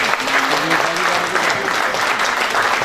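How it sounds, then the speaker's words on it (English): A live audience at a Rotary training session breaks into steady, dense applause for a guest, sustained and fairly loud for the whole stretch with some overlapping voices. "A round of applause for our guest."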